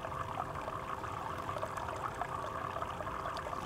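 A Kakadu portable shower runs with a steady, hissing stream of warm water, continuous and even at moderate volume with no talking.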